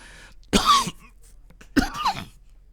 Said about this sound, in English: Coughing jag.